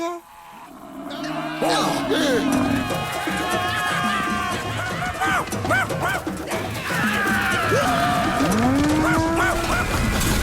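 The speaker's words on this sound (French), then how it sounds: "il n'y a qu'un vieux bison très méfiant" An old, wary bison lows repeatedly in a French cartoon western, the long moos rising and falling over a busy soundtrack of music and background noise.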